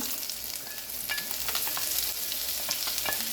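Onions sauteing in a skillet over a turned-down flame, giving a steady crackling sizzle with scattered pops and occasional stirring scrapes, close and continuous with no talking.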